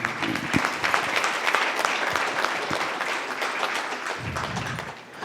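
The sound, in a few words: audience applause at a seminar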